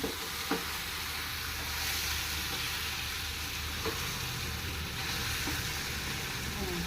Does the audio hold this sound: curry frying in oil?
yes